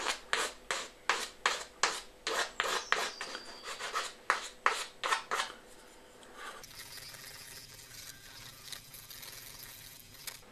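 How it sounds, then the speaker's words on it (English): Quick rasping strokes filing ridges off wood edges in a regular rhythm, about a dozen close passes, then the strokes stop and a softer rough hiss takes over. "we are breaking off the ridges here, so that the edges are smooth"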